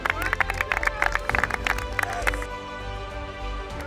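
An audience at a football dribbling duel applauds the players, bursts of scattered clapping and crowd noise mixing with talk, then easing toward a murmur.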